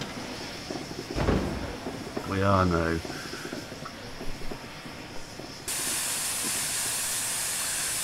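Flying Scotsman steam locomotive releasing its brake: a steady broadband hiss of steam starts partway through and continues loud to the end, after someone speaks briefly.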